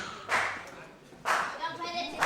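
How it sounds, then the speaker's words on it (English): A wrestling crowd at an indoor show breaks into two short bursts of applause, each swelling quickly and then fading, with scattered clapping lingering between them. "This crowd doing what they can to show their appreciation for the hard work and the beatings that they've dished out to each other so far"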